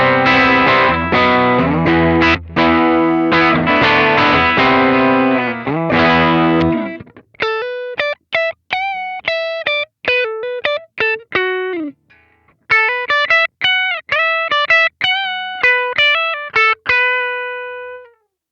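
A mahogany Gibson Explorer electric guitar plays heavily distorted chords up close, then moves into single notes and short staccato stabs with gaps between them, all played alone with no talk.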